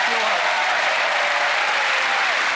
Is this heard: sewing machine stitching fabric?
no